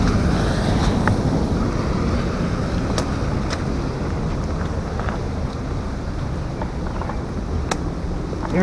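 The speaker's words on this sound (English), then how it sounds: "sitting by this waterfall is, with the sound of the water, it's pretty relaxing" Muddy water of a waterfall in a city park on a rainy day flows continuously in a dense, steady broadband rush, with occasional faint ticks and clicks above it and no talk.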